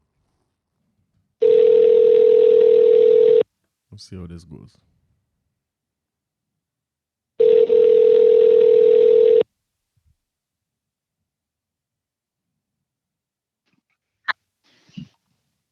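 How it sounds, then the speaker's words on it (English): Two long, steady telephone dial tones, each about two seconds, separated by brief speech and silence, with a short voice near the end. "Let me see if we get her on the phone."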